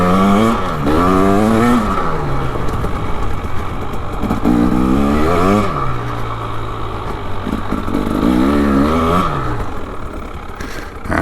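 A 2025 KTM 300XCW Champion Edition two-stroke dirt bike ridden on icy snow, engine revving up and down repeatedly in rising and falling surges, close and loud throughout.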